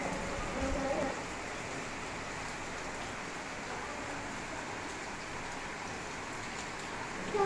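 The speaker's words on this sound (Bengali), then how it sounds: "প্রচুর জোরে বৃষ্টি হচ্ছে দেখো" Rain falls in a dense, steady wash of hiss and patter, moderately distant and unbroken for several seconds, with a slightly louder burst at the very start.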